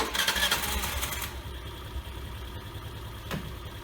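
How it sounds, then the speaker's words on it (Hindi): Suzuki Burgman scooter engine started right after an oil change, a louder burst at the start settling into a steady, even idle with a faint mechanical ticking throughout. "उसके बाद हम इंजन ऑयल चेंबर को बंद कर देते हैं और इंजन को स्टार्ट करते"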